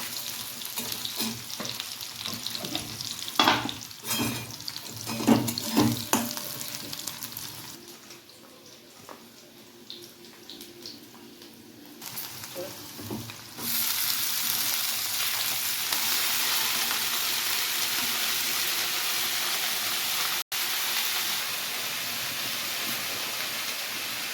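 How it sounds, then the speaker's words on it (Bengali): Onions fry in a pan with nigella seeds and green chili, a close continuous sizzle with stirring clatter early on. It dips quieter midway, then returns as a louder steady hiss to the end. No talking. "পেঁয়াজটা একটু ভাজা ভাজা হবে, তখন শাকটা দিয়ে দেবো"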